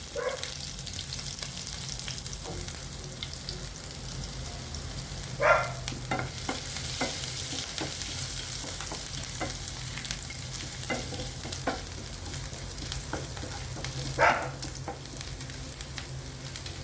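Chopped, crushed ginger and garlic frying in hot oil until browned: a continuous close sizzle with occasional light spoon clinks and scrapes against the pan, no voices.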